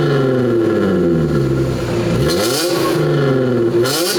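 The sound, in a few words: Audi Q7 engine revving with exhaust valves closed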